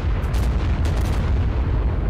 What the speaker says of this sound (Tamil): இங்கே பாருங்கள் எப்படி வெடியை போடுறான்னு